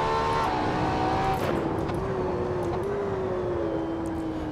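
A LaFerrari held in a fourth-gear drift at Paul Ricard in Assetto Corsa, its engine a loud, sustained high-revving roar with pitch wavering as the revs sag and climb, tyre noise underneath.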